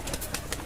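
A brief, faint snippet of domestic pigeons cooing softly nearby on a rooftop loft, a couple of low murmuring coos.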